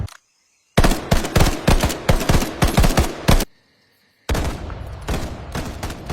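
Machine gun fire in a World War 2 Pacific battle: two long, loud bursts of rapid shots, separated by a brief quiet gap, with a faint tone under the pause.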